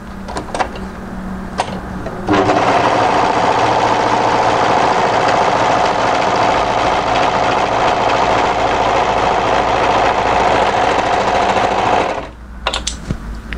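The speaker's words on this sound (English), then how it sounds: "take your left front and overlock this side seam here" An overlocker sews the side seam of a mid-length wrap cardigan, a loud continuous motorized hum and rattle lasting about ten seconds, with softer handling noises before and after.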